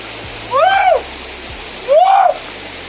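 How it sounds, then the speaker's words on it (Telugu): A waterfall rushes in a steady, continuous roar, with two brief voiced murmurs rising over it. "మీరు మాత్రం ఈ వాటర్ ఫాల్స్ ఎంజాయ్ చేయండి"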